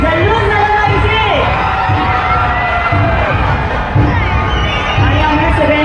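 A crowd at a jewellery shop opening in Uran cheers and whoops loudly and continuously, with shouting voices, excited chatter and high yelling rising over the steady roar throughout.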